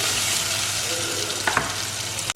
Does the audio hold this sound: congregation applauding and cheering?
no